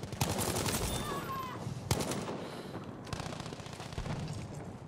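Rapid gunfire from the video game Battlefield V, dense bursts of shots layered with game effects and bangs, loud and continuous throughout, with a player's voice briefly mixed in.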